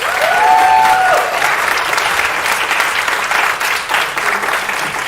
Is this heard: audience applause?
yes